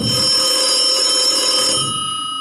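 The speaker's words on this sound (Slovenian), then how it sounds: "je zazvonil vaš telefon in vi se boste na ta telefon javili" A telephone rings loudly with a steady electronic bell tone lasting about two seconds, then fades slightly at the end, with no voices.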